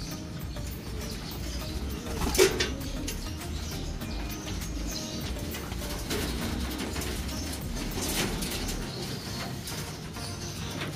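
Racing pigeons coo softly inside their loft, low murmuring calls repeating through the background at a modest distance, with one slightly louder note early on and no talking.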